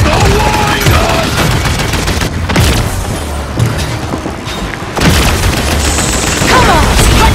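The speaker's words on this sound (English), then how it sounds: "Here's the wind gun!" A wind gun fires in the team shooter Paladins during a training siege match against bots: loud, dense bursts of blasts and booming impacts continue throughout amid battle noise.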